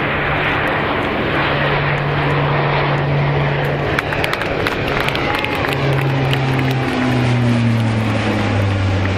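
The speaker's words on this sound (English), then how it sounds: "C-130 Hercules." Lockheed C-130 Hercules turboprop flying past at an airshow, a loud continuous propeller and engine roar with a droning tone that shifts in pitch as it passes, crowd noise faintly underneath.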